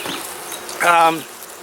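A honeybee hive's bees buzz close by in one short burst, a brief rising hum that swells and fades within about half a second, with no talking.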